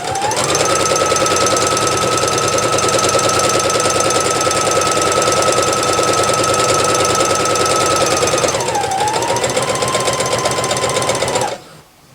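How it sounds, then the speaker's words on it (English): Sewing machine stitching fabric for an hourglass quilt block, a loud, close, rapid mechanical chatter at a steady pace that slows briefly near the end before stopping abruptly. "we're going to finish up and sew right to where we started"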